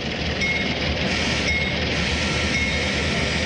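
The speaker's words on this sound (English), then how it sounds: "hundreds of model railroads are on display in Grapevine" Model trains running at the National Train Show, a model railroad exhibition at the Gaylord Texan Resort in Grapevine, a dense steady hiss of wheels and faint clinks over hall ambience, no voices.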